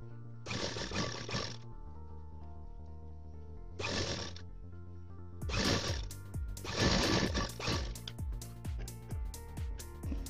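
A sewing machine stitches a blouse in several bursts of rapid motor-driven whirring and needle chatter with short pauses between, loud and close by.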